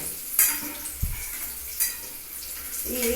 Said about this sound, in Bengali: একদম হালকা আমি ভেজে তুলে নিচ্ছি